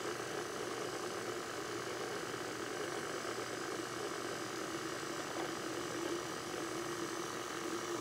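An electric mixer runs at reduced speed through shortbread dough as flour is added, giving a steady, unbroken mechanical whir and hum for the whole stretch with no talking.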